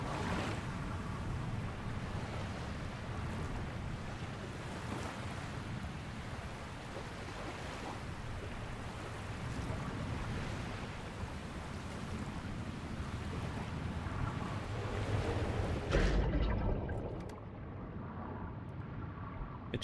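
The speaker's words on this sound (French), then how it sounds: "T'as les vagues juste là." Ocean waves and surf in the underwater exploration game Under The Waves, a continuous broad wash with gusty wind, steady and enveloping, swelling briefly near the end before a sudden cutoff.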